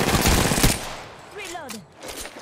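Gunfire in Apex Legends, a dense burst of rapid shots up front that thins out, followed by a short in-game voice cue and further scattered noise.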